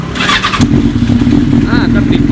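A Benelli BN600i motorcycle, just washed, cranks and fires up about half a second in, then settles into a steady, loud, close idle. A voice is heard briefly before the start.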